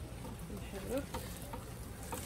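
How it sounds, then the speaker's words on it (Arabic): Mashed potatoes with cheese are stirred in a pot, a brief soft scraping and squelching over a low sizzle, with a faint voice-like sound in the middle. "نحرك."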